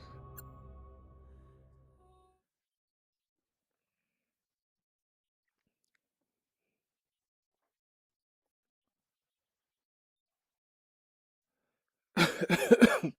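A single short cough bursts out close and alone near the end, after a faint stretch of low game ambience from Lone Echo on Oculus Rift and long silence.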